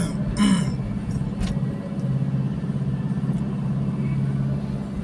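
A vehicle driving steadily along the road from La Trinidad to Baguio, with a continuous low engine and road rumble from inside the cabin and a couple of brief higher clicks near the start.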